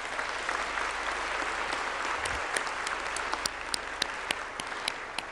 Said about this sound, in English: let's give everyone who pitched a huge round of applause